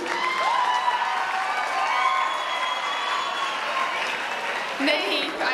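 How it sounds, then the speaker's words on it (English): A crowd at an institute's welcome event for a Mrs. Earth titleholder applauds steadily, with scattered cheers and voices mixed into the clapping. "let's have a huge round of applause for Dr. Jordia for asking that question."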